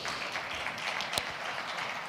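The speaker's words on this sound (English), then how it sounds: "Another round of applause for that, please." Steady applause from an audience at the Jamaica Productivity Centre's 2026 Productivity Forum, a faint, even wash of many hands clapping at a distance, with one sharper clap standing out partway through.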